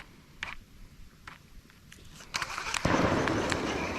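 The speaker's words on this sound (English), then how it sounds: "Freaking gunshots galore." Sharp cracking bangs of distant gunshots ring out sporadically by a backwater river, a few isolated at first, then a denser burst over a rumbling outdoor background.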